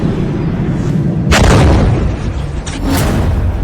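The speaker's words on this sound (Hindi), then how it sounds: "ईरान ने एक बार फिर मिसाइल लॉन्च करते हुए दिखाई है" Iranian missiles launch with a loud sustained roar and booming rumble, a broadband blast swelling midway and a second burst near the end, heard without speech.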